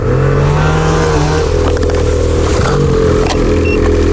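A motorcycle engine runs loudly and close by with steady revving and clattering, rough mechanical noise throughout, no voices.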